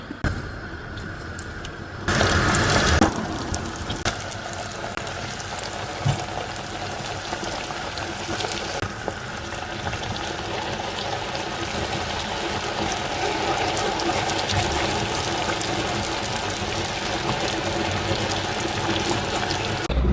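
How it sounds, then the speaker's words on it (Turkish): Börek pastries frying in hot oil produce a continuous crackling, bubbling sizzle, with a louder burst of splattering near the start as they go into the pan, then a steady fry. "Hemen börekleri kızartacağım."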